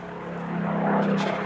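The Rolls-Royce Heritage Flight's Spitfire PR19, flown by Chris Hadlow at the Midlands Air Festival 2022, drones overhead in a brief, steady propeller and piston-engine hum that swells slightly over a second and a half.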